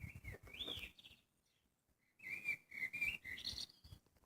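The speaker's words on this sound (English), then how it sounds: "Okay, so this is the bird." Recorded bird call from a plush Garden Sounds baby toy: a quiet electronic chirping and whistling song in two bursts, separated by a short pause, with no talk.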